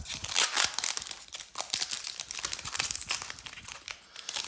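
Crimson Vow trading card booster pack being torn open, a close, continuous crinkling and tearing of foil wrapper with sharp crackles throughout, no talking.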